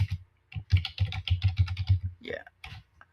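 Rapid, steady clatter of keys being typed on a computer keyboard, close and fairly loud, with a brief voice sound near the end.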